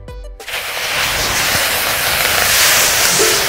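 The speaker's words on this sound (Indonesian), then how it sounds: "Tumis bumbu sampai harum" Spice paste for Sundanese yellow broth sizzling and hissing in a hot pan, a loud steady frying hiss that starts abruptly and holds throughout, no voices.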